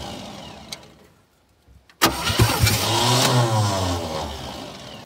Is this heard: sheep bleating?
no